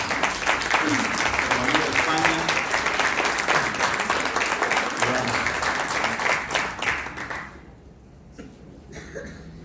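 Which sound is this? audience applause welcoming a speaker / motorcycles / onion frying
audience applause welcoming a speaker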